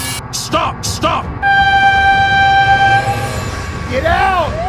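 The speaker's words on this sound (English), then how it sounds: "Oh my god, train!" A train in the BeamNG.Drive driving game sounds a long, loud steady horn blast as it passes, with excited voices shouting before and after it.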